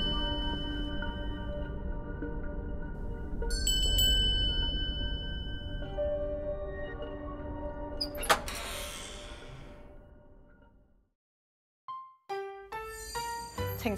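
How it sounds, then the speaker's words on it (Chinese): An unusual-sounding doorbell rings indoors, its sustained chime tones layering and fading over several seconds before a few clicks and clatters follow. "你屋企个门钟声咁得意嘅？"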